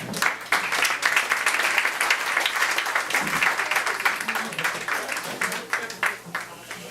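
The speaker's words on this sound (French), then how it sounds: "on applaudit chaleureusement Laure Morali" A warm crowd applauds to welcome a poet at an anniversary evening, loud sustained clapping with sharp individual claps, and voices murmur faintly underneath.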